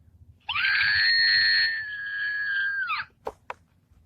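An Archie McPhee screaming electronic figure toy lets out one loud, sustained shrill scream of about two and a half seconds, ending abruptly, followed by a couple of sharp clicks.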